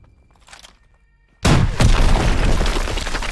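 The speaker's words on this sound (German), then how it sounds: "Daniels, noch eine Mauer. Sprengen Sie sie." Wall blown apart by a demolition charge in Call of Duty: WW2, a sudden loud close boom after near silence, followed by a dense roar of crumbling debris and rumble that carries on to the end.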